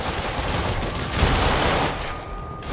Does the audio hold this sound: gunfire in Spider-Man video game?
yes